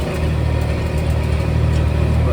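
A Case 4890 tractor engine runs steadily with a deep, even diesel rumble, loud and close, with no voices over it.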